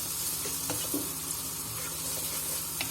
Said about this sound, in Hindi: अब मैं इसके अंदर ये जो 2 मीडियम टमाटर थे ये डाल दूंगी और हल्का सा पकाऊंगी